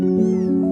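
A cat meows once in the video game Before Your Eyes, a single drawn-out, steady mew lasting under a second, close and clear.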